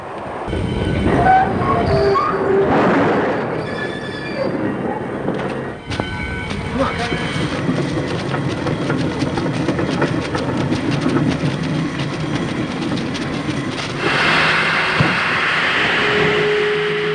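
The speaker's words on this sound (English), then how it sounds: "Clark, stop the train!" A steam train runs loudly throughout a 1933 film scene, with steady rumbling wheels, clattering railcars and brief whistle-like tones, continuous and close.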